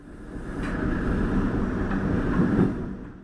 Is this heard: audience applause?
no